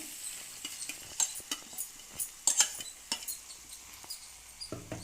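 A ground paste of pepper, garlic, ginger and a small onion sizzles in a pan for a chicken pepper fry, with scattered stirring clinks and scrapes standing out over a steady frying hiss; no voices.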